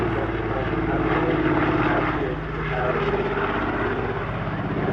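A Caribou twin-propeller transport aircraft flies past at an airshow, a steady, loud, droning propeller roar that fills the whole stretch, dipping slightly midway.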